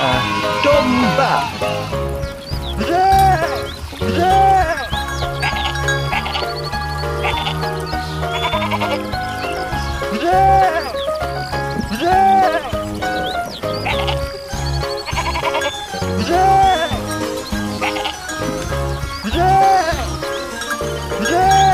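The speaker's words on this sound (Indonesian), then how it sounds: "Domba." Cartoon sheep bleat in repeated wavering calls over busy, loud children's music with a steady beat, in an animated animal-hauling truck video.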